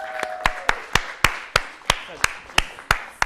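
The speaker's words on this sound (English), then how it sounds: "So round of applause for our first pitcher." Audience at a writing and producing workshop welcomes the first pitcher with sharp, evenly spaced claps, about ten distinct strikes in a steady beat, close and clear with no talking.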